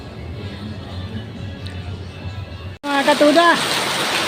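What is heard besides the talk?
heavy rain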